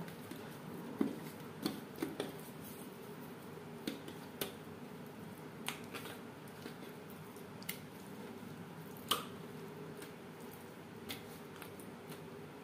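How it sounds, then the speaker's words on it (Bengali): Hands mixing pieces of fish with salt and turmeric in a bowl, producing soft, quiet squishing and occasional light slapping clicks at an irregular pace, close and intimate. "লবণ হলুদ দিয়ে মাছ বেশ ভালো করে মেখে নেব"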